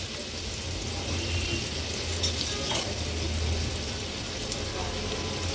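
Onion and crushed ginger-garlic fry in a little oil over a low flame with a steady soft sizzle. A spoon stirs the pan now and then, adding faint scraping.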